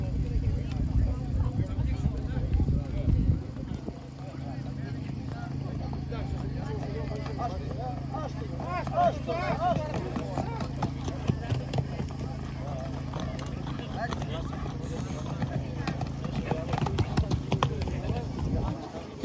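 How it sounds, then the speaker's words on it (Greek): Horses trotting in a harness race at a saint's day village festival, hoof beats blending into crowd noise and engine rumble beneath continuous announcer commentary. "Περιμένουμε να δούμε το τελικό ανάμεσα σε δύο άλογα από την Πέτρα, το ταξιάρχη του Τρίμη και τον Εφιάλτη"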